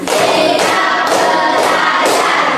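Classroom students perform a rhythmic tepuk semangat cheer, clapping in unison with about four sharp, evenly spaced bursts over constant crowd noise.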